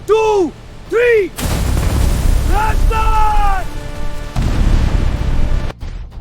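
A grenade dropped into a bunker's ventilation shaft goes off in a loud, close booming roar that rumbles for seconds, followed by a second heavy blast, with shouting voices before and during.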